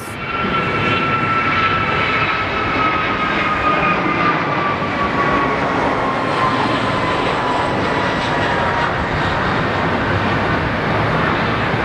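A loud, steady roar of a Southwest jet airplane taking off at Phoenix Sky Harbor Airport, sustained throughout with a faint whining tone drifting slowly downward, no voices.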